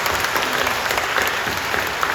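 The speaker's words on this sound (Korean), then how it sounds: "우리 모든 분들에게 우리 감사하다고 박수 한번 해주시죠" A church congregation applauds during a worship service, with dense, steady clapping filling the whole space at close range and no talking over it.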